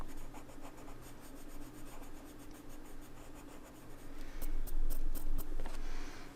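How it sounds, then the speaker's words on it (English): A colored pencil turned slowly in a handheld sharpener, a continuous rough, rasping grind close to the listener, growing slightly louder and scratchier toward the end, with no talking. "I have to sharpen very slowly so as not to get the tip stuck into the sharpener there."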